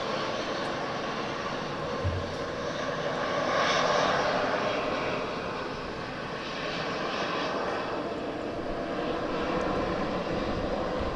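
Jet engines of an easyJet Boeing 737 and an Embraer E170 at Southend Airport produce a steady, moderately distant roar that swells briefly in the middle, with no talking over it.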